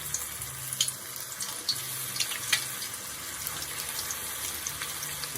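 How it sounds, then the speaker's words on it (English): Stuffed qatayef filled with white cheese deep frying in hot oil, giving a steady close hiss and fizz with scattered crackles and spits throughout. "So now we're gonna fry it, deep fry, as you see here."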